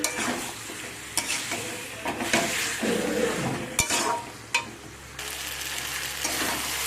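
Meat slowly fried and stirred in a pan with spices, giving a steady sizzle under repeated scraping strokes and occasional sharp clinks of the spoon against metal, close and moderately loud.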